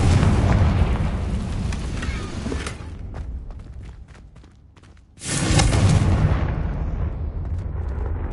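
A Confringo fire spell explodes in the Hogwarts Legacy video game, with a loud blast, a quieter lull, then a second heavy boom that rumbles on.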